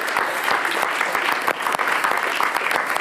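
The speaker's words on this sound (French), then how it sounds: "On peut l'applaudir." Audience applause for a guest on a televised Telethon charity broadcast, a steady dense clapping from a large crowd that holds loud and even throughout.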